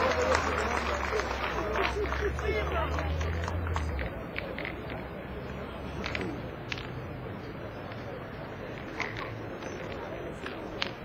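Spectators applaud and murmur at a Marseille pétanque semi-final, scattered claps and crowd noise running steadily throughout with a low rumble fading early on.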